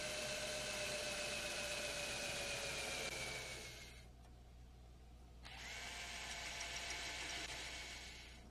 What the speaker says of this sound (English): Drill the 3/16 inch hole for the rear vertical trim fin bolt and spacer.